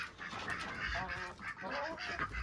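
Geese and ducks kept on a farm call out in a busy flock, overlapping honks and quacks going on steadily throughout, fairly close and with no talking.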